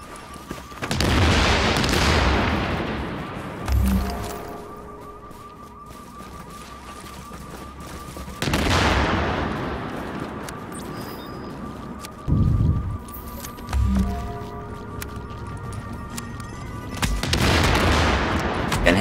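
Gunfire in The Division video game, loud bursts of shots and booms recurring every few seconds over a steady background hum of game audio.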